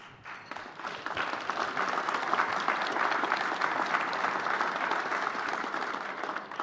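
Sustained audience applause from a crowd at a speech by Ontario's Minister of the Environment and Climate Change, a dense, steady wash of clapping that swells quickly and holds evenly loud for several seconds without voices.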